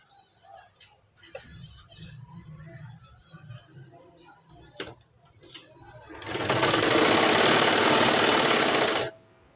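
A sewing machine stitches tuck points on a plain blouse, one loud, steady whirring run of a few seconds after scattered handling clicks and fabric shuffling.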